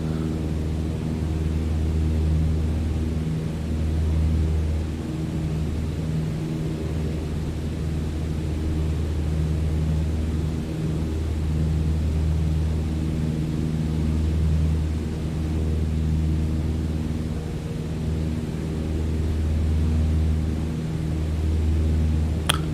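A Cessna's simulated piston engine drones steadily just after takeoff in Microsoft Flight Simulator 2020, a continuous low hum with faint periodic pulsing and a constant broadband rush, no talk over it.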